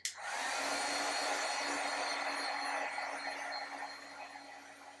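A heat tool blows hot air onto a resin cup in one continuous, loud, close-up rushing whoosh that starts abruptly and holds steady for several seconds, fading slightly toward the end, with no talking.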